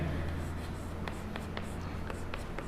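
Pen or marker strokes on a writing surface while working through a partial-fraction integral with a repeated factor, with several short scratchy strokes spaced across the moment over a low steady hum, no talking.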